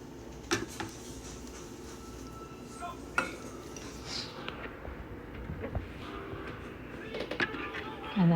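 Cake ingredients being added to a mixer bowl, with scattered clinks, taps and bumps of utensils against the bowl at close range, amid quiet kitchen background.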